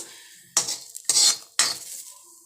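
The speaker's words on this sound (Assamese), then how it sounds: "প্ৰথমতে বাদামখিনি ভাজি লৈ আছোঁ।" Three distinct bursts of scraping and rattling as dry peanuts are stirred and tossed in a pan, with brief quiet gaps between them.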